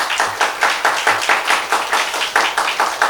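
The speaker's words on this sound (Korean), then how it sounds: "박수 부탁드립니다." A congregation at a Korean Sunday church service claps in unison, producing a steady, rhythmic beat of sharp, regular claps that is loud and close, with no talking.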